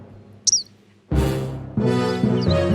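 A cartoon songbird gives a sharp high chirp, and after a short pause a bright, layered musical passage follows as the sound effect in an animated flower fairy story.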